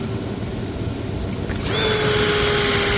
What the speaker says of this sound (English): I'm just letting the drill bit and the drill do the work.